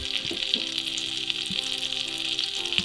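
Butter, two tablespoons, sizzling gently in a pan over the lowest heat setting for a simple steak gravy, a steady close crackle with a few soft clicks and knocks, no talking.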